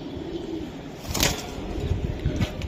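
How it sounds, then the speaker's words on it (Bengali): A wild-type jungli pigeon among a seller's pigeons coos in low, soft murmuring phrases, close by amid a busy background with a brief rustle like wings near the middle. "এই যে জংলি কবুতর, এটা সারাসারি লাইনের জংলি।"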